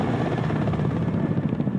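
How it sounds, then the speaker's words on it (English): Ka-27 ship-based naval helicopter in flight, a steady dense rotor and engine roar with rapid rhythmic chopping, continuous and fairly loud. "Ka-27 take part in long-range crusades with real search and tracking of potential enemy submarines"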